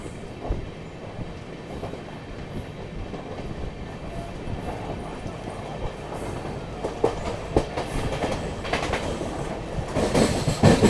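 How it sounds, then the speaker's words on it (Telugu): The Puri Express, a Tirupati–Puri train with a new LHB rake, pulls out of platform 4 at Kavali railway station, a continuous close rumble with rising clickety-clack and occasional wheel squeal as it builds speed, no talking. "కావలి రైల్వే స్టేషన్ ప్లాట్ఫామ్ 4 నుండి డిపార్చర్ తీసుకుంటుంది మన పూరి ఎక్స్ప్రెస్"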